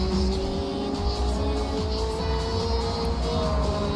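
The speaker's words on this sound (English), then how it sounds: "I think I hear another car coming past our screens." Race car from the Assetto Corsa racing game at Road America, a steady engine drone with a rising pitch as it passes, loud and constant with no talk.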